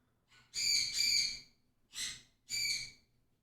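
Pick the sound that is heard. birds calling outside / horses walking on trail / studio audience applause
birds calling outside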